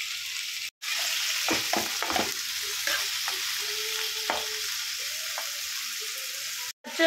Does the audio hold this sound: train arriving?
no